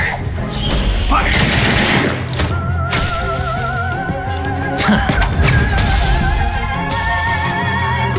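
Gunfire volley in the Honkai: Star Rail video game: loud bursts of shots and thuds mixed with music and ringing effects, with voices calling out between them.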